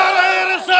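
A large crowd at a Bengali waz sermon loudly chants Subhanallah in unison, a sustained massed shout of voices close and loud, dipping briefly before swelling again.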